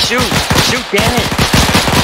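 Machine gun fire in the military shooter Arma 3, a loud, rapid string of automatic shots repeating in quick bursts close up, with a brief pause in the middle before the firing resumes.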